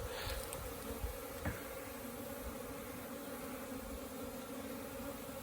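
Honeybees buzz around a beehive in a steady, low drone that holds for the whole stretch, with a few louder passes close by and no voices.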